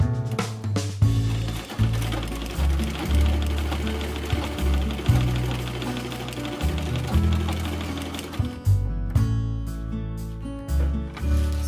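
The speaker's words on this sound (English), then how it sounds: "combine these two, sew on this part right here" A sewing machine stitches two pieces of cut fabric together for a homemade face mask, running in loud bursts that stop and start, each run of rapid stitching mechanical and close.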